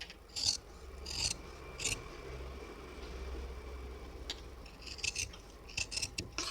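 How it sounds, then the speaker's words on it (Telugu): Tailoring scissors snip through fabric pieces being cut for a blouse pattern, making close, crisp cutting sounds in short clusters with quiet rustling gaps between them. "ఈ పైన పార్ట్స్ ఇలా మనం కటింగ్ చేసేసుకోవాలి."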